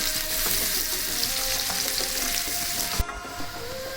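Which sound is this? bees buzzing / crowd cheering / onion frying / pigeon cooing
onion frying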